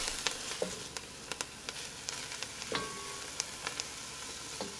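Tomatoes and other ingredients sautéing for albóndigas, a soft continuous sizzle broken by sharp spoon taps and scrapes as the pan is stirred, with no talking.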